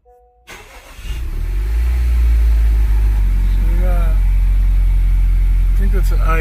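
A car's engine, just fitted with a new intake air temperature sensor, cranks and starts, then settles into a loud, steady run close by, with a few faint chirps over the drone.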